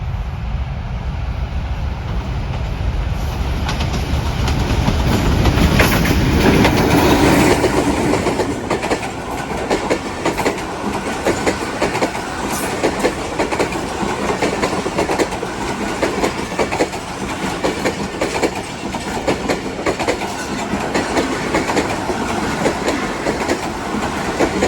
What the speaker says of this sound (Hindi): ये कराची से रावलपिंडी के लिए तेज़गाम।